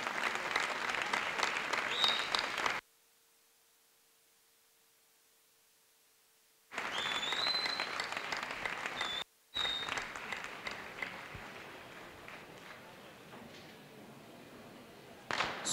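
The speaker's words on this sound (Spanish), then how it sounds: "Un aplauso." Crowd applause for a speaker at a town festival proclamation in Medina del Campo, a faint, sustained patter of clapping that breaks off into silence, returns, then slowly fades.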